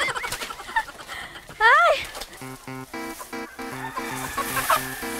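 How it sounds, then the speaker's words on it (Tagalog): Native chickens cluck and squawk nearby in short repeated bursts, with one loud cry mixed in and a person's exclamation over them. "Ito na yung mga nahuli ko na native chickens."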